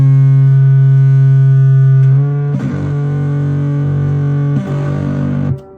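An acoustic guitar runs through a fuzz effect with the bite set to full, giving loud, buzzing, distorted sustained chords that ring out, shift twice to new chords, then cut off.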